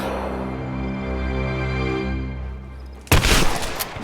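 A sudden loud burst of gunfire in Rise of the Tomb Raider as prisoners are executed, cutting in after a sustained droning hum.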